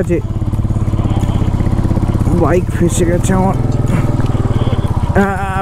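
A motorcycle engine labours and revs hard while the bike gets bogged down in thick mud on a rough road between Siliguri and Mangan in North Sikkim. The loud, continuous drone stays close, with a man exclaiming over it.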